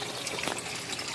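Water draining through a homemade aquaponics system, a brief steady rushing trickle at close range with no talk.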